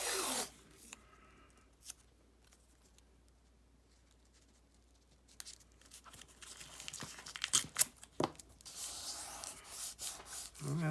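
Tape is pulled and pressed tightly against a bottle, giving faint rubbing, crinkling and tearing sounds. The sounds stay quiet early on, then grow into denser, sharper scrapes and rubs toward the end.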